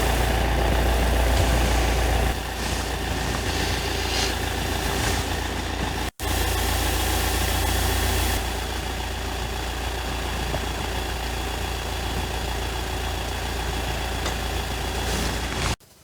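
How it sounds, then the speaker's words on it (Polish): Volkswagen Crafter van with a 2.0 TDI 177 hp diesel engine idles steadily, a close, even low hum broken by one brief dropout midway and a cut at the end. "A w środku mamy silnik dwulitrowy, 177-konny diesla."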